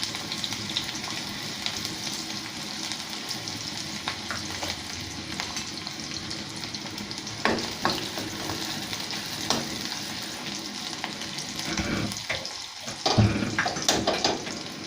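Chopped onions sizzle and crackle in hot oil for a goat brain fry, a steady close frying hiss with occasional stirring scrapes and a few louder clatters near the end.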